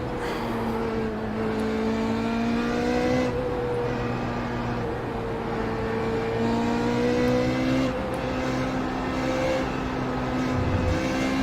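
Formula Renault 3.5 race car engine at full throttle in the iRacing video game, a loud continuous high-revving roar with rising and falling harmonic sweeps as gears shift, steady and close throughout with no talking.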